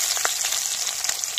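Chopped small onions dropped into hot oil with cumin seeds for a chickpea dal, giving a brief, close, crackling sizzle with scattered pops.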